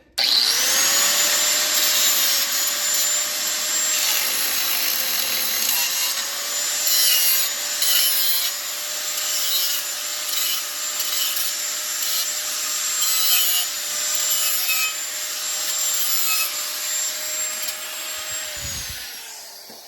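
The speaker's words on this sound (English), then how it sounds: "this part here, I just have to trim a few things up on it" A power saw cuts through a metal art piece in one loud, continuous grinding run of about twenty seconds, with a sustained whine that dips slightly in pitch under load before stopping near the end.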